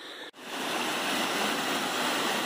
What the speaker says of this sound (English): look at the beautiful waterfall going across the bridge